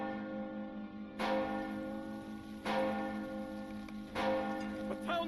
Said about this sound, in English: What is that? The town bells! Something is amiss outside.